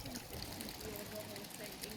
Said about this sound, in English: the sound of water I just find really relaxing